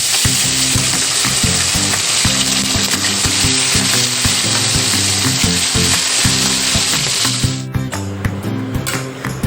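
A ginger, garlic and raw turmeric paste hits hot oil in a kadai with a loud, close, continuous sizzle and spitting, easing off toward the end as stirring scrapes through, with a low hum beneath and no talk.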